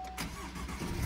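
A wrecked Chevy Colorado engine cranks and catches in a brief close start-up, settling into a steady mid-pitched running note.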